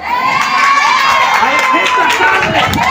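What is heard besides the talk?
cheering crowd of supporters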